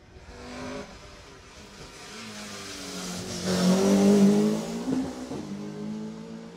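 A rally car on a Jersey Rally stage in 2018, first faint in the distance, then its engine revs and roars louder as it passes close by, then fades with gear changes and no talking.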